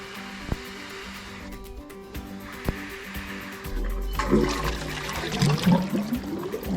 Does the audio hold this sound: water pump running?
yes